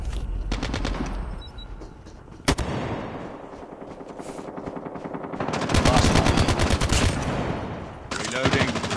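Call of Duty gunfire rattles in rapid automatic bursts and sharp single shots, loud and close, with a brief pause before the fire resumes heavily.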